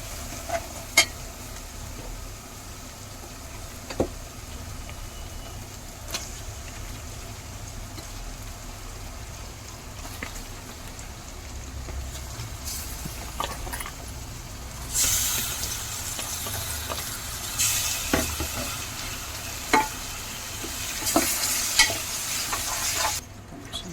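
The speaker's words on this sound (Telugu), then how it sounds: "బాగా వేగినాయి ఇప్పుడు" Spices and turmeric frying for a chicken gravy curry, a constant oily sizzle with intermittent spatula scrapes and taps against the pan, growing louder and hissier toward the end, nearby and without talk.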